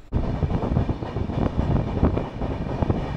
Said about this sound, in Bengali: এখনো আমাদের ট্রেন ঢুকছে সাঁতরাগাছিতে, এখনো ঢুকে উঠতে পারেনি।